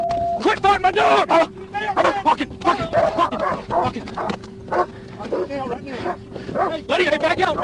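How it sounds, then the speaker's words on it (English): A police dog barks and growls during a violent arrest at a stopped car, the sounds loud and close and repeated, overlapping with officers shouting. "Quit fighting my dog!"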